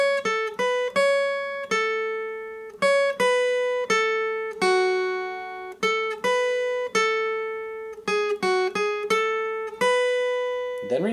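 Acoustic guitar plays the plucked intro riff of a song, clear single notes and short runs ringing out in a steady melodic rhythm, close and alone with no talking.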